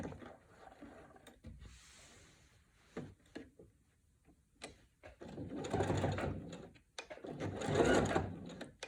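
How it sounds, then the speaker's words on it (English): Sewing machine stitching quilt binding, bursts of rapid mechanical whirring and ticking in close spurts separated by short pauses, strongest near the end. "I'm gonna go ahead and continue sewing."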